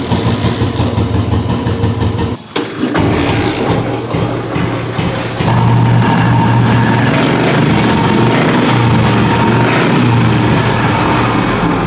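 A 1979 vintage motorcycle engine idles steadily and close by, a low rumbling chug that drops out briefly before settling back into a continuous running drone.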